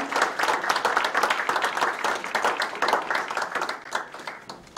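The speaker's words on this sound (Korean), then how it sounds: "큰 박수 부탁드리겠습니다" Applause from an audience at a press conference confirming the Yangpyeong–Seoul expressway, steady dense clapping filling the room from start to finish with faint murmurs beneath.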